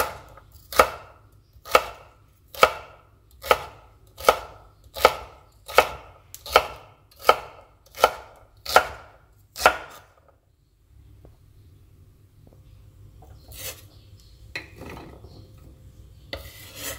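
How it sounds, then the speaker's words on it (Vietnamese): Celery is diced with a knife on a cutting board in eleven sharp, evenly spaced chops close up, then the chopping stops and faint kitchen handling noises follow. "sau đó thái hạt lựu."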